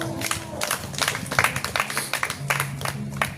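Applause from a church congregation: fairly loud, uneven crowd clapping with sharp individual claps standing out, over a low steady musical tone.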